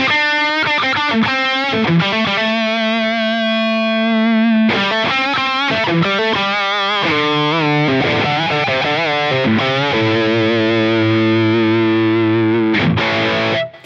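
Electric guitar played through the Line 6 Helix Placater Dirty amp model based on the Friedman BE100, a saturated high-gain tone with ringing sustained chords and riffs, loud and alone with no talking.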